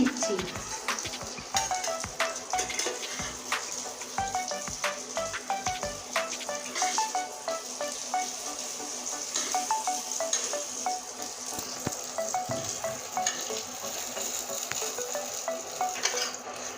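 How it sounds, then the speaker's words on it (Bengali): Potato pieces fry in hot oil in a home kitchen while vegetarian vegetables are being cooked, giving a steady close sizzle with scattered utensil clicks and pan taps throughout. "এই তেলের ভিতরে এখানে আছে আলু এই আলুটা এখন ছেড়ে দিচ্ছি তেলে"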